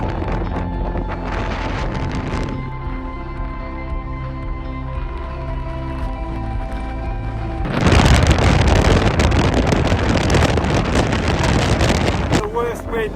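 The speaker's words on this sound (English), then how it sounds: "The worst wind I've ever been in. It's probably about 50 miles an hour right now." Strong wind of about 50 mph buffeting a camp on Helvellyn in the Lake District near Red Tarn, a constant loud roar that surges much harder partway through, with broad rumble across the microphone.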